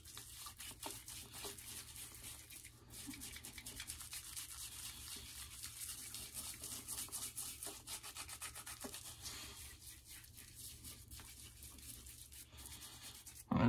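A shaving brush lathers sandalwood shaving soap with continuous soft, close, quiet swishing and scrubbing for several seconds, without talk.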